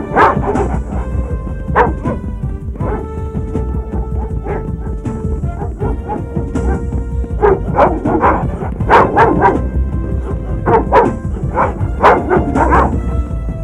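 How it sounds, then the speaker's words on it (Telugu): Several dogs bark, yip and whimper in a tense movie action scene, the sharp barks coming in irregular bursts, loud and close, over a busy background score. "కుక్కలు వదలండి రా."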